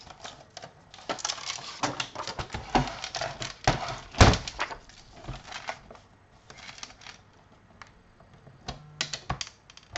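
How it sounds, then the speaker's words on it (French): Paper being cut to ten by fifteen for a handmade card, a string of dry crisp scrapes and snips at close range with irregular bursts and one sharper knock near the middle. "je vais couper un papier de 10"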